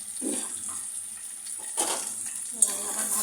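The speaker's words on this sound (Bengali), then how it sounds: "আবার ভালো মতো নাড়াচাড়া করে" Chicken and papaya curry stirred in a pan with spices, a soft wet sizzle and a few gentle scraping stirs, close but quiet and fairly even throughout.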